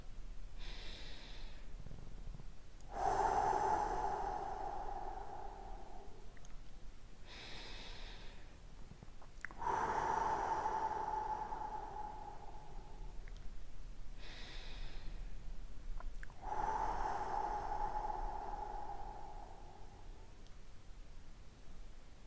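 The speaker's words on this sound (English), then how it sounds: "we're going to start by taking 3 big deep breaths" Three slow, deep breaths during a guided relaxation exercise, each a long loud inhale and exhale through the nose or mouth, spaced evenly with quiet pauses between, close and alone with no talking.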